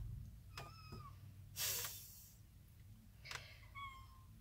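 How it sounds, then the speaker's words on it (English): A cat gives two short, faint meows, separated by a soft breathy rustle, over a low background hum. "because she can't get it, she meows."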